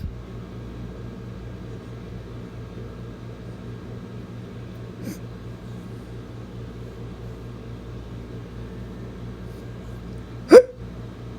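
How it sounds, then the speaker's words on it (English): A single sharp hiccup near the end, preceded by a fainter one midway, over a steady low hum of background noise with no talking. "go away, hiccups"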